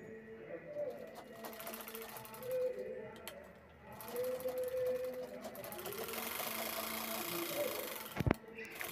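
A sewing machine stitches a zip onto a tote bag in bursts of rapid mechanical whirring, fairly close, with a sharp clack near the end, while someone speaks quietly.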